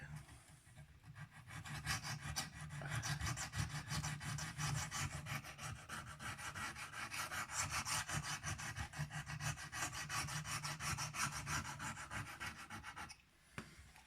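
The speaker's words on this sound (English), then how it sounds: "now we're on to the big stone, and this is about 600 grit. So I'm going to start now." A Spyderco Byrd Robin 2 knife is sharpened freehand on a 600-grit diamond stone, producing continuous close, gritty rasping strokes that stop abruptly near the end.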